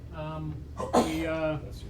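A single sharp sneeze bursts out midway through a county legislature committee meeting, amid a steady hum and a voice speaking around it.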